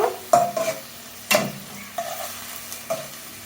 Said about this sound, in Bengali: এখন মশলা ভালোভাবে কষিয়ে নেব